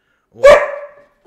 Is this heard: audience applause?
no